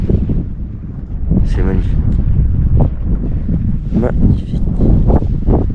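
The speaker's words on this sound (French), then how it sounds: "il fait froid, il y a du vent." Cold wind blows across a mountainside at dawn near a refuge on the Tour du Mont Blanc, a steady low buffeting rumble in the microphone that runs under a voice.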